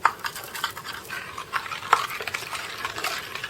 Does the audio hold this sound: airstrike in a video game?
no